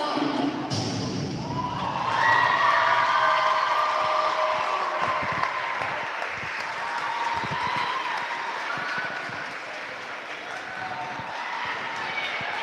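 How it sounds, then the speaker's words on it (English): Crowd applause and cheering at halftime of a high school boys basketball game at Muncie Central, a broad sustained roar of clapping in a gym that swells early and continues steadily, with an announcer's voice over it. "One big round of applause for the Muncie Central."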